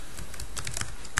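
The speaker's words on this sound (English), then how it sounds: "So I'm going to type the same thing that I typed before" Rapid, crisp clicks of fingers typing on a computer keyboard, close and steady, with a few sharper keystrokes and no voices.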